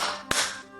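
A single sharp hand clap lands in the middle of a brief moment, crisp and close.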